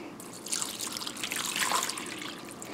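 Two cups of water pour into a bowl of meatloaf mix with egg, a steady close trickle and splash lasting a couple of seconds, with no talking.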